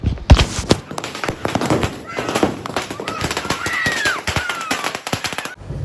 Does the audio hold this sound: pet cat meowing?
no